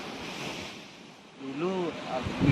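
Ocean waves roll in on the shore beside a sea-turtle conservation station in Bali, where the beach is suffering abrasion. The surf makes a soft, steady wash with wind noise, a voice comes in briefly partway through, and the surge swells toward the end.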